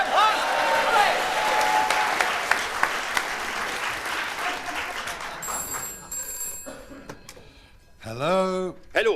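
Applause from an audience on a 1975 comedy LP, a dense wash of clapping that fills most of the stretch, then gives way to ringing telephone-like tones near the end.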